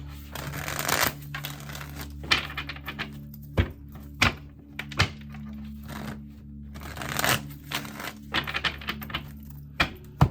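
Cards are shuffled in several quick riffling bursts, separated by soft taps and thunks as the deck is squared, close and fairly quiet.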